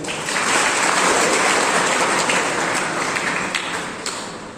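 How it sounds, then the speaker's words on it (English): Audience clapping for Mayank, a former student who now runs his own startup and employs others, at an alumni mentoring session. A dense, steady wash of many hands fills the room, loud and close, with no talk over it. "Everybody clap for Mayank."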